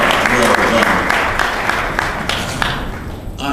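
An audience at a gala applauds steadily, dense clapping that thins out toward the end.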